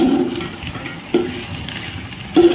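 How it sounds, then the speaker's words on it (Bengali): Finely chopped onions frying in hot oil, a steady close sizzle with a few sharper stirring scrapes against the pan, no voices. "তারপরে আমি দিয়ে দিলাম পেঁয়াজ, একদম মিহি করে কুচনো পেঁয়াজ পরিমাণ মতো দিয়ে পেঁয়াজটাকে ভালো করে কষতে থাকলাম।"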